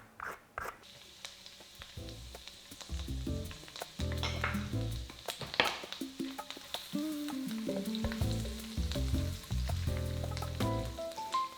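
Lemon zest, lemon thyme and parsley sizzle in an oily pan, a steady crackling fry with clinks and stirring knocks throughout, close and moderately loud with no voices.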